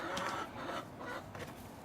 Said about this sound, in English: it's time to let the chickens out to free range a little bit